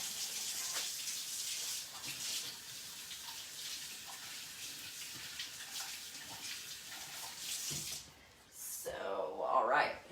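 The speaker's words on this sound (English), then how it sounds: "I do need to take a minute to wash my hands though" Water runs from a kitchen tap for several seconds while hands are rinsed of avocado, a steady broadband gush that stops briefly near the end before another splash.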